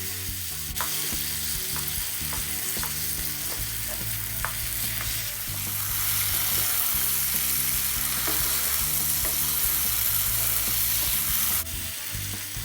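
Eggplant fries in a pan for baingan bharta, a steady broadband sizzle running under repeated scraping and mashing strokes of a utensil, close and fairly loud throughout with no voices.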